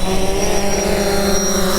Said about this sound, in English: Firefighting aircraft can be critical to battling wildfires.